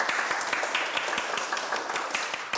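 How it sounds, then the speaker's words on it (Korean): An audience at a quiz event on a military base claps together in steady, dense applause that carries on unbroken and fairly loud for a few seconds, with no one speaking over it. "박수 한번 주세요"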